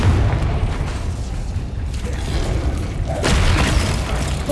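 A Bombarda blasting spell goes off in Hogwarts Legacy, a loud, rumbling explosive boom with a burst of crackling debris toward the end, no speech over it.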